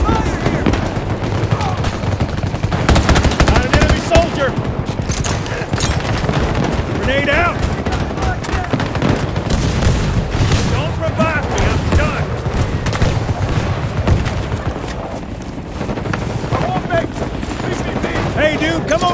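Continuous loud gunfire from a military shooter game, dense automatic bursts and booms filling the whole passage, with voices talking under the shooting.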